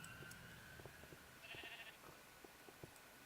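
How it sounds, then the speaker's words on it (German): Faint Minecraft sheep bleats, a few short calls with a slightly synthetic quality, over quiet background noise. "Da sind meine Schäfchen drin, man hört es."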